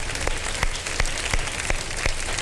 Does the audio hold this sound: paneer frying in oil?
no